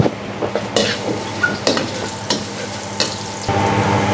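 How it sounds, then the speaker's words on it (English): Garlic cloves fry in a little cooking oil in a pan, giving a steady close sizzle broken by several sharp stirring scrapes and clinks. No talking. "You get a little bit of oil, cooking oil. And then you put the garlic, just a few cloves of garlic."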